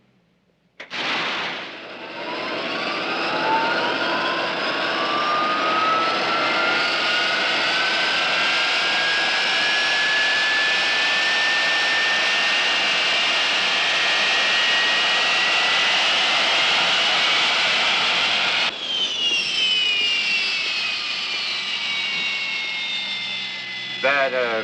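An airliner's aircraft engine, from a 1964 film, catches with a sharp burst and spools up into a loud, rising jet whine that holds steady for most of the clip, then shifts pitch as it settles near the end.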